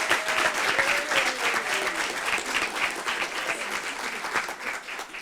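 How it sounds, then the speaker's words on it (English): Sustained applause from an awards ceremony audience, a dense, steady wash of many hands clapping at fairly even loudness, easing slightly toward the end. "let's give Chantal a round of applause"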